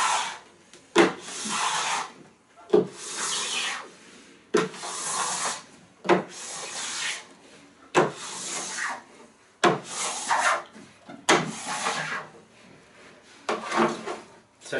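A scraper drags across a waxed snowboard base in a series of rough, rasping strokes, each about a second or two long, with short pauses between them. The strokes are close and fairly loud, and no one talks.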